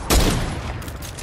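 A loud sharp burst of gunfire rings out close at the start of a video game sniper shootout, then trails off into a fading rumbling echo.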